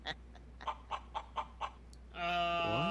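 A run of five or six quick, rhythmic chicken clucks from a video game chicken in Yakuza: Like a Dragon, close and moderately loud, followed by a sudden burst of game sound effects.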